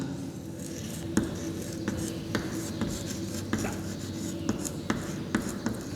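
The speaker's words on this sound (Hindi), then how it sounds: "ये मैं लिख रहा हूँ इलेक्ट्रॉनिक विन्यास।" Marker or chalk writing on a board in a classroom-style chemistry lesson, steady scratchy strokes with periodic taps as letters are formed, close and continuous over a low background hum.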